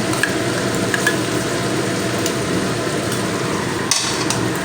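Spice paste mixed in water goes into a hot frying pan, setting off a loud, steady sizzle with a few sharp clatters and one splash-like burst near the end, with no voices.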